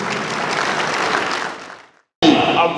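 Convention hall audience at a political party national convention applauding steadily, a dense wash of clapping that fades out, pauses briefly, then bursts back in loudly.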